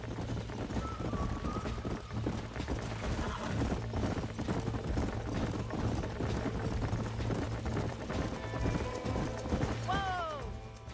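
Horse hooves clip-clop with occasional whinnies among ranch horses in the video game Red Dead Redemption on PS5, steady throughout under in-game music and talking voices.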